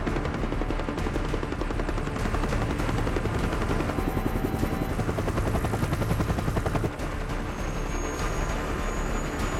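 A helicopter's rotor thumps steadily and loudly throughout, with a dense engine whine and rapid chopping pulses, no speech.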